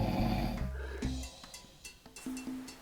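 A man snores loudly while sleeping, a heavy rasping snore at the start followed by quieter snorting breaths and faint rustles.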